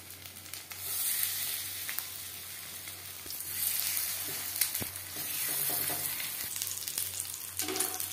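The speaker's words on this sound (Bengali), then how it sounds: "ফিশ ফ্রাই ভাজবো লো টু মিডিয়াম ফ্লেমে" Fish frying in refined oil over low to medium flame, a bright continuous close sizzle that swells and eases, with a few faint utensil taps.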